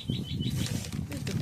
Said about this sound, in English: Leave the bird alone.